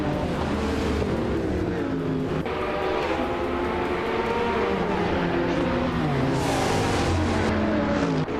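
Hypercars, including a 2022 McLaren Elva, race in a video game at Bannock Brae Yard, with a steady, loud layered engine drone and shifting revving tones running continuously throughout.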